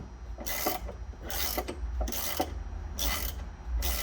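A wrench ratchets as it torques the rear suspension end link bolt with polyurethane bushings on a 1973 Dodge Challenger, producing four short bursts of clicking close up against a low background hum.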